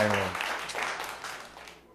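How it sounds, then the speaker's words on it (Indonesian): Applause breaks out in a podcast studio, a short burst of clapping that follows a brief voiced sound at the start and tapers off gradually, with no talk over it. "Tepuk tangan dulu dong"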